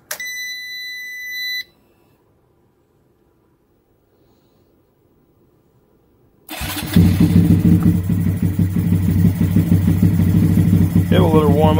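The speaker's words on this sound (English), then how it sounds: "So now we shall fire her up." A Honda Grom motorcycle engine cranks and catches, then settles into a loud, steady idle with a deep rumble; a few electronic beeps sound briefly before it starts.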